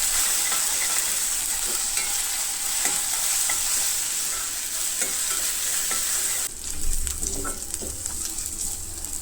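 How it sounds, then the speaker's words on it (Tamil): Onions sautéing with ginger garlic paste in a pan for a chicken masala fry, a steady close sizzle with scraping stir strokes throughout, growing louder and busier near the end. "இஞ்சி பூண்டு பேஸ்ட்டு சேர்த்த பிறகு நல்லா பச்சை வாசனை போகிற அளவுக்கு வதக்கிக்கணும்."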